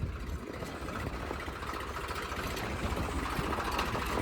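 A tractor engine runs steadily nearby at a village site, a constant mid-to-low rumble that holds at an even level throughout with no voices.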